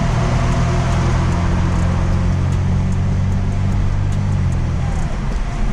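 A tuned BMW 335 pulls hard under acceleration, its engine droning loud and close, with quick breaks in the tone where the gears shift, and no talk over it.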